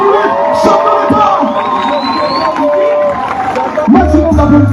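Crowd noise and cheering from an audience greeting Gabon's transition president at a public event in Makokou, a steady loud hubbub with tonal music-like lines and raised voices running throughout.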